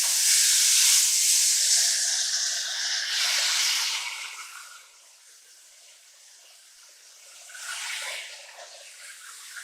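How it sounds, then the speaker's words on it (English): Ground beef hitting a skillet heated over medium-high heat, a loud bright sizzle that fades to a quieter hiss and then flares up again near the end. "So we have a skillet heated up over a medium-high heat, and to this we are going to add in our ground beef."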